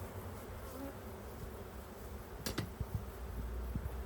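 A steady, dense drone of honeybees buzzing close by around an open hive, with a few sharper buzzes as individual bees fly past.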